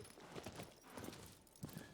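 Faint horse hooves clip-clop in Shadow of the Colossus, a soft irregular run of quiet thuds in an otherwise hushed scene.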